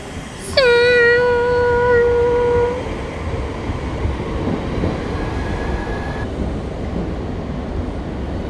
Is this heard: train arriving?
yes